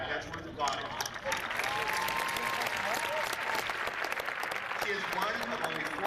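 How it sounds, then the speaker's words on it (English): Applause from a large audience at Stony Brook University's commencement ceremony, a dense, even wash of clapping that carries steadily throughout, sitting a bit distant and soft. "that's worth applauding."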